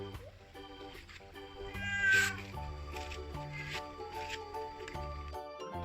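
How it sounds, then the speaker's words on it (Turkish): Cats at a farm meow repeatedly, several plaintive calls rising and falling, close by, with one louder cry in the middle and a faint background hum. "Cici kediler babacığım. Seni ziyarete gelmişler"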